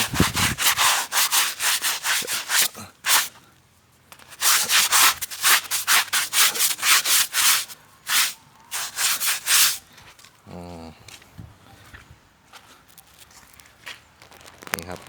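Skin is scrubbed during a bath in repeated rhythmic bursts of close, coarse rubbing, broken by short pauses and a stretch of quieter handling.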